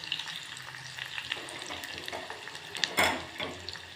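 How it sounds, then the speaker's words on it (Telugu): Onions, curry leaves and green chillies fry in hot oil for a prawn curry, giving a steady close sizzle with a brief louder burst of stirring and splatter near the end, no voices. "ఉల్లిపాయలు వేసి వేయించుకోవాలి."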